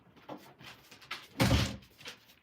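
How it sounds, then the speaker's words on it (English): An indoor door swings shut with a single solid thump near the middle, close and fairly loud, set against quiet room noise. "I'm just shutting this door because both sets of dogs have been out."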